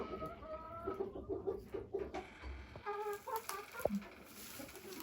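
A small blue-egg-laying Ameraucana bantam hen clucks while laying in a backyard coop, giving soft, irregular bursts of clucking and murmurs with a brief sharper squawk near the end, faint and close.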